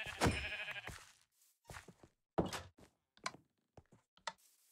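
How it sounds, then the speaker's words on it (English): Sheep bleat in a Minecraft taiga village: one loud bleat, then several short thumps and clicks of hits spaced apart, with quiet gaps between them. "I will, however, kill these sheep."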